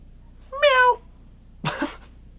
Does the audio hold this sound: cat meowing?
yes